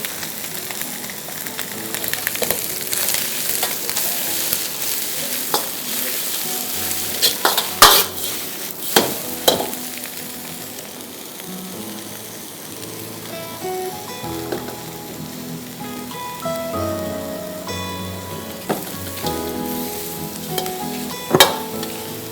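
Noodles and seasonings stir-frying in a pan for a Szechuan dish, steady sizzling broken by frequent scraping and clanks of a utensil against the metal.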